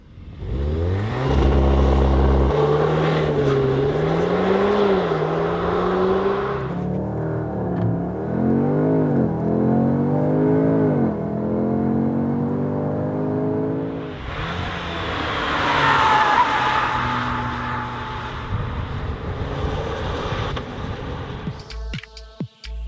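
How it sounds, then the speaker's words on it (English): A 2021 Audi S3 sport hatchback engine revs and pulls through the gears, its tone sweeping up and dropping with each shift, then surging loudly again. The drive sound is steady and close, with no talk over it. "Join us for a driving review of the new Audi S3."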